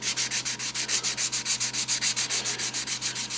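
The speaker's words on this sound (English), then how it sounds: "240 grit sanding sponge that is kind of my go-to rough sanding tool" A 240 grit sanding sponge rubs back and forth over painted primer in quick, even strokes, a close, dry rasping rhythm of about six passes a second with no voices.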